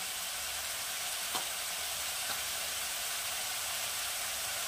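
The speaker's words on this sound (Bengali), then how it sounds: "এটাও আমি খুব ভালো করে কষিয়ে নেব" Ginger-garlic paste and turmeric masala frying in a pan for a Bengali duck egg do pyaza, a dense, even hiss of sizzling oil with two faint stirring scrapes.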